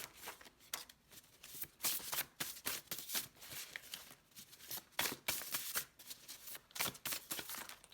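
A deck of flimsy index-card stock tarot cards being shuffled by hand, with repeated riffling bursts in an uneven rhythm, close and fairly quiet, with no talk.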